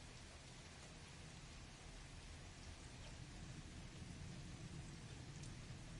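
Steady rain sound effect, a continuous even hiss of falling rain with a faint low rumble like distant thunder, playing alone without voices.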